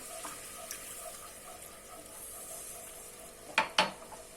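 Soft sizzling as milk is stirred into toasted flour in a pan, quiet and steady, ending with two sharp clinks of a utensil against the pan.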